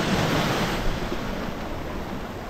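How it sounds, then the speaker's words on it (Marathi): Sea waves at high tide wash continuously against the shore below Sindhudurg fort, a dense, steady surf rush with wind, and no voices. "आता भरती आहे वाटतं त्यामुळे पाणी वरती वरती येतं"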